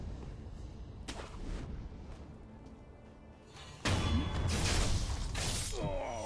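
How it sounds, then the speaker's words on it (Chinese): Enemy cannon fire in Sekiro: Shadows Die Twice: a sharp blast early on, then a loud, sustained crashing barrage from about the middle onward, with clattering, shattering debris. "最近主要是有一个拿大炮的人啊，我感觉上还是非常非常危险的。"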